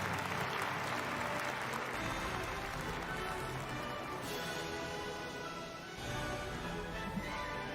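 A large audience at the 2022 SUNHAK Peace Prize awards ceremony breaks into a big round of applause, dense and steady from start to finish, with no voices over it.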